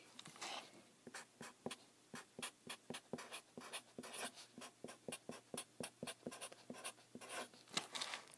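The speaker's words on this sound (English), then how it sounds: "try it with a permanent Sharpie" A permanent Sharpie marker writes on planner paper, producing quick rhythmic scratchy strokes, close and faint, repeating steadily with brief gaps between words.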